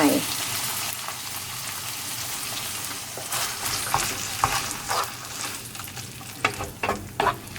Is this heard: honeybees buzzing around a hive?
no